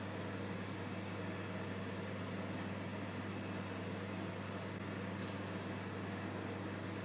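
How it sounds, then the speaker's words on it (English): A microwave oven warms a tablespoon of honey, running with a steady low electrical hum and a faint even whir, heard alone and quiet throughout. "I'm going to warm this up in the microwave for 10 seconds."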